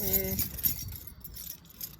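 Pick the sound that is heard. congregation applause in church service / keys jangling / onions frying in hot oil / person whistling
keys jangling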